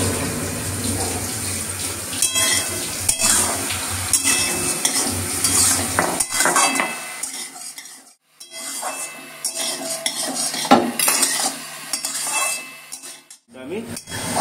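Eggplant pieces frying in a pan for a Bengali chickpea greens dish, with a steady sizzle, stirring scrapes and clinks, loud and close, going quieter for a moment partway through.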